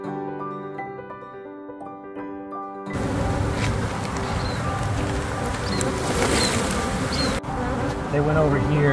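A large swarm of honeybees living inside a roof buzzes in a dense, steady drone close by, starting partway through after a brief tonal passage and continuing loud to the end.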